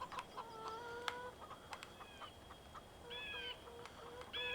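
Chickens clucking in the Farming Simulator 17 game on an American outback farm, several short harmonic calls repeating in bursts over a steady background hum.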